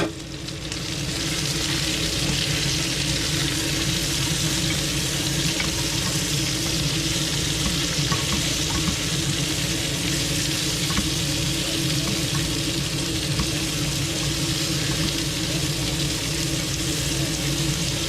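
Vegetables sizzle and fry steadily in a hot pan, a loud, continuous crackling hiss that holds for the whole stretch with no talk over it.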